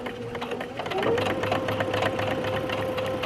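Sewing machine stitching steadily across the top seam of a Low Key cami at 1 cm, a close, continuous motor hum and needle rattle running throughout.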